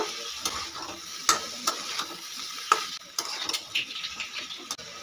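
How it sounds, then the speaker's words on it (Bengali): Long beans and potatoes stir-fried together in a pan, an even sizzle broken by frequent metallic scrapes and clicks of the spatula, close and without speech. "এবারে বরবটিগুলোকে দিয়ে দেবো। খুব ভালো করে সব কিছু আমি একসঙ্গে কষিয়ে নেব।"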